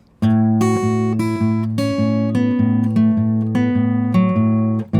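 Up-close electric guitar plays the third phrase of a blues song, rhythmic picked notes over a ringing low drone, repeated attacks every half second or so with no voices.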